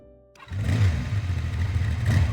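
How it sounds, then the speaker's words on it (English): A heavy motorcycle engine in the game Love and Deepspace roars to life after a short quiet start, then holds a loud, steady, rumbling rev close by. "The heavy motorcycle navigates through the city streets so fast that no one can make out the art on it"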